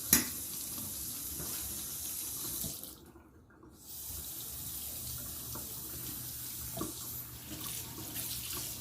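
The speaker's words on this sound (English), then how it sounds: "And I rinse them real good." Turkey wings being rinsed under warm running tap water at a kitchen sink, a steady close rush of water with a brief lull near the middle before the flow resumes.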